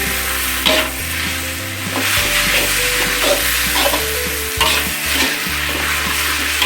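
Kwetiau noodles stir-fried with ground pepper and salt in a pan, loud continuous sizzling with rhythmic scraping and clanking of a spatula tossing the noodles, close up and without talk.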